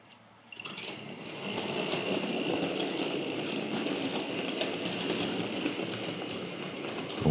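A Tri-ang Hornby R.152 BR blue diesel shunter pulling R.19 plate wagons starts up and runs steadily, producing a continuous close rattle and whirring hum of model wheels on track.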